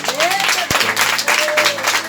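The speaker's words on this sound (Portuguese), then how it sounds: "Aplauda o Senhor." Church congregation applauding together during a worship service, steady loud clapping filling the room for about two seconds.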